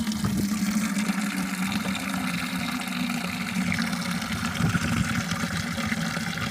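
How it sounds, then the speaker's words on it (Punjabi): Fresh drinking water runs steadily into a container at a school, a continuous rushing, gurgling flow with a low pump-like hum underneath, close and even throughout with no talking. "ਪਿਛਲੇ ਦਿਨ ਦਾ ਪਾਣੀ ਹੈ ਆਪਾਂ ਤਾਜ਼ਾ ਭਰ ਲਈਦਾ"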